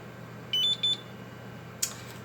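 A NAS booting Open Media Vault from a USB stick gives a few short electronic beeps: two close tones near the start, then a single brief chirp after a pause, over faint steady background hum.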